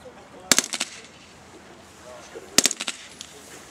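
Two short bursts of rapid rifle fire crack out during an army section training exercise, each a quick cluster of sharp shots separated by a quiet pause, heard at moderate distance outdoors.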